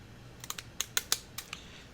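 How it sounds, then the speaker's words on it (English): Small scissors trimming scraps of paper while making mini journals, a run of about eight crisp close snips at an uneven pace, with no talk. "Let's get these little scissors and trim that out."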